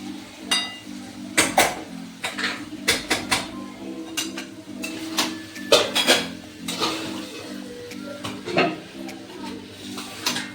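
Paneer pieces being stirred and fried in a home kitchen pan, with repeated clinks and scrapes of a utensil against the metal over a steady sizzle, close and moderately loud with no talking.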